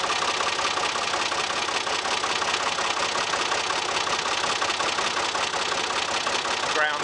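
A tractor engine runs steadily at a constant pace on a rainy day in soaked ground, a close, even mechanical drone with a knocking rattle throughout, with faint talk beneath it.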